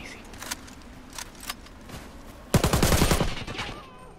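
Gunfire from a weapon in the shooter game Warface: a few spaced single shots at first, then a sustained rapid automatic burst, loud and close, no voices over it.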